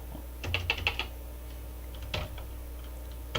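Keys clack on a Commodore SuperPET SP9000 vintage computer keyboard: a quick run of close, crisp taps, a pause, then a few more isolated strokes against a quiet room.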